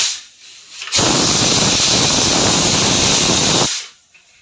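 A pressure cooker boiling potatoes vents a loud, steady burst of steam hiss that starts abruptly, holds for nearly three seconds, then cuts off.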